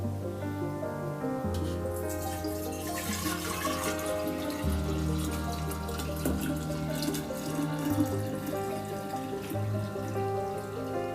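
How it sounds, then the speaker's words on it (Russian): Cooled homemade honey mead is poured into a jar, a steady trickling and splashing of liquid that runs continuously at moderate volume with no talking. "заливаем это все, в моем случае,"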